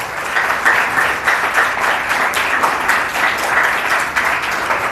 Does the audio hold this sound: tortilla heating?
no